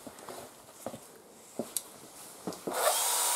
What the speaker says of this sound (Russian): Посмотреть шуруповерт у папы?